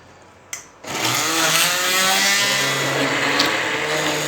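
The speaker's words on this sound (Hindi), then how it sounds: "ब्लेंडर की सहायता से हमें इसको ब्लेंड कर लेना है" An electric blender switches on after a short click and churns a mango ice cream mixture with a little water, a loud, steady whirring motor grind that continues without talk.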